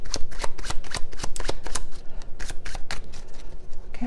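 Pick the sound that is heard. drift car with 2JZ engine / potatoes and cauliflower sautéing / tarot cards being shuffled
tarot cards being shuffled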